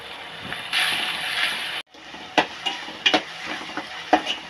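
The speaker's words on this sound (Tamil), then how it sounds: "வெங்காயம் நல்லா வதங்கணும் பொன்னிறமாக" Onions sizzle and crackle in a hot pan while a utensil stirs and scrapes, with a few sharp clinks against the pan.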